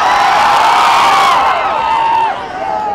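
A large crowd at a public appearance in Rajahmundry cheers and whoops loudly and continuously, with shouting voices filling the air before easing slightly toward the end.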